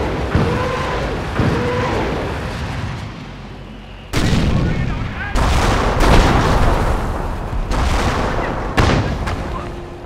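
Rocket barrage explosions in Company of Heroes: Tales of Valor, set at the Falaise Pocket, land as a series of loud, heavy blasts in irregular succession over continuous battlefield rumble and gunfire, with faint voices in the mix.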